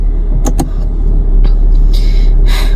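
Car interior with a low engine rumble and a few light clicks and rustles, no talk, heard during a heavy-rain outing.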